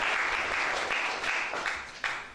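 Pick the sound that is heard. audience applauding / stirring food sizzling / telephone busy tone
audience applauding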